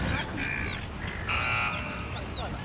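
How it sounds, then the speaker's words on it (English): Birds in a Sydney city park call in several clear, crow-like caws and whistled notes against steady outdoor background noise. "Birds!"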